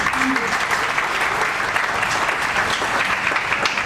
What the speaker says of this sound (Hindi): इनके लिए एक जोरदार ताली, जोरदार।